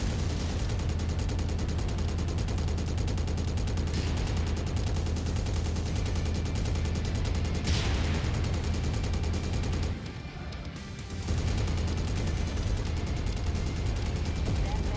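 Heavy machine gun fire from battling mechs in MechWarrior 5: Mercenaries rattles almost continuously, dense and loud, with scattered booms and impacts mixed in and a brief lull near the end before the firing resumes.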